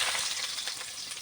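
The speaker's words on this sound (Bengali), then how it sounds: "তেলটা গরম হয়ে গেছে, আমি এর মধ্যে পেঁয়াজ দিয়ে দেবো" Onions drop into hot oil and fry with a bright, steady hiss and crackle, close and fairly loud for a brief moment, with no voices.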